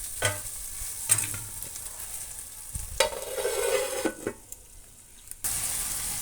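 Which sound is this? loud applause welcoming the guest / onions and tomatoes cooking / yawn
onions and tomatoes cooking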